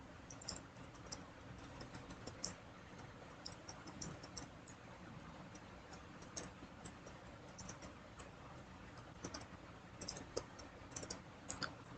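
Typing on a computer keyboard while entering a Python string, soft and fairly quiet irregular key clicks in quick runs, close by, with no one talking.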